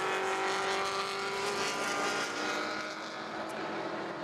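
Front-wheel-drive hatchback race cars lap a circuit at a track event, engines droning and whining steadily at a distance with a higher tone sliding past, no talking.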